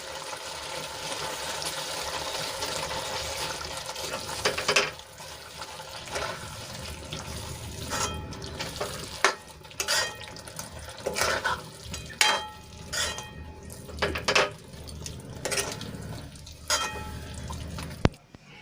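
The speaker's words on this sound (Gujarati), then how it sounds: "સો ગ્રામ પનીર હતું એને મેં ખમણી લીધું છે એ એડ કરી દઈશું અને સરસ રીતે મિક્સ કરી લઈશું" Grated paneer being stirred into a green chickpea curry in a pan, with a steady wet sizzle and scraping stirs, plus a run of sharp clinks and knocks against the pan toward the end.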